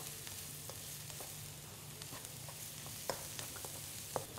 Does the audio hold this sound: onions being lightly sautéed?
yes